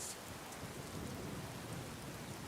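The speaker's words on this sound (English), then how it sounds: "so it's raining now, so fire spells would be weakened" Steady rain pours in the Skyrim LoreRim modpack, a dense, even hiss of falling drops that fills the whole stretch at a low, constant level with no voices.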